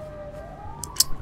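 A fire engine siren wails in the police game GTA V with the LSPDFR mod, a single rising tone held steadily, loud and close, with a short crackle near the end.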